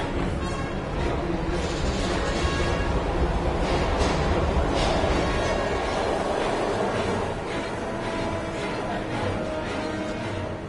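Rumbling train noise from the video game Heavy Rain, a steady, loud rail clatter and roar that runs throughout, with music or ambience layered over it.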